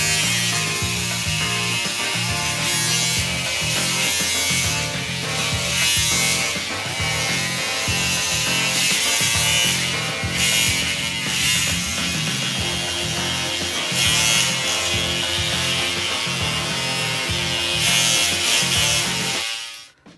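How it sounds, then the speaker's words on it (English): An electric shaver buzzes continuously and close up as it cuts down about three weeks of beard growth. The rough mechanical drone runs for some twenty seconds with slight rasping changes and stops at the end. "So, today would be end of the beard. We'll shave it down a bit."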